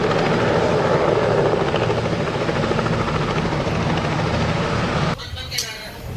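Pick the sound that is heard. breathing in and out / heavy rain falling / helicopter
helicopter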